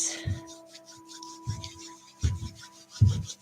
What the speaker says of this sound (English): let's just start by rubbing your hands together. Create some heat,